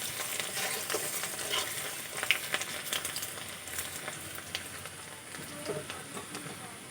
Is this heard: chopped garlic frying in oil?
yes